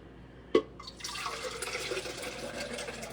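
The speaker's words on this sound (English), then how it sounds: "It drips." Juice from a home juicer drips with a single clear drop, followed by a soft trickle and quiet liquid splashing, close and faint, with no talking.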